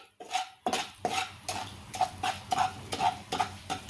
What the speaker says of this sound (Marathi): आता दोन्ही एकत्र छान रोस्ट करून घ्यायचंय तुपामध्ये.